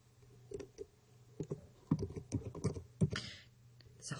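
Typing on a computer keyboard: a short, quiet run of close, uneven key clicks in small clusters, with a brief sharper click near the end.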